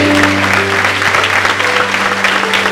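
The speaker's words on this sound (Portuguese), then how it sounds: "Pode aplaudir Jesus, nós vamos subir." A church congregation applauding during a worship service, loud dense clapping filling the room steadily, with sustained organ or keyboard tones underneath.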